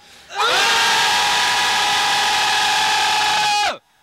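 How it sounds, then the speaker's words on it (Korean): A crowd of job seekers at a corporate self-improvement training session lets out a single loud, sustained unison shout lasting about three seconds, rising sharply and cutting off abruptly. "함성 전방향에 힘찬 함성 3초간 시작"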